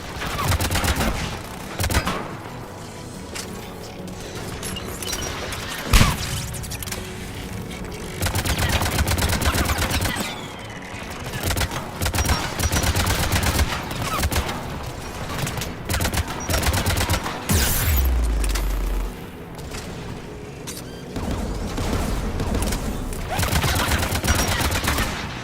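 Sustained gunfire and heavy bursts from an AA gun and combat in Mass Effect 3 pound almost continuously, loud and dense, with booming low impacts and short lulls between volleys.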